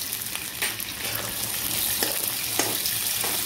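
Green peas and chili hit golden brown onions in a hot pan for matar paneer pulao, a close, continuous sizzle and crackle with a few louder spits and stirring scrapes.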